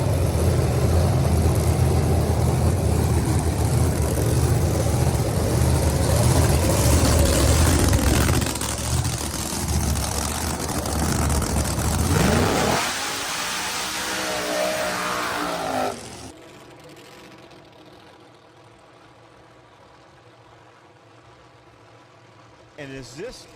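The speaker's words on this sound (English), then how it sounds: "we'll get this car fired up." A drag race car engine starts, roars and revs loudly for a long stretch, then shuts off, leaving a quieter background with faint voices.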